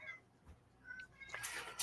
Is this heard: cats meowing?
yes